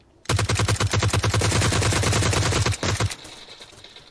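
Suppressed assault rifle fire from the battle royale game PUBG, a fast sustained burst of rapid shots lasting nearly three seconds, loud and close, then cutting off into quiet game ambience.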